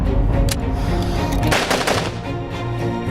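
Rapid bursts of gunfire from a dramatic scene, loud and dense, with a sharp volley in the middle of the stretch and no talk over it.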